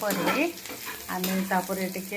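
Onions sizzle in a pan for a chicken curry as they are stirred, a close, continuous frying hiss with a voice talking over it.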